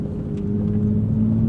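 A Toyota Supra A90 engine hums and rumbles steadily at close range, a low sustained drone with a slight rise, alone without talk.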